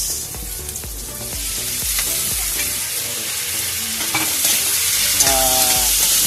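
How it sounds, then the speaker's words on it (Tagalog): Tomatoes sautéing in a pan, a continuous sizzle broken by rhythmic scraping strokes of a spatula, close and fairly loud, with no voices. "Lagay po natin yung ating kamatis."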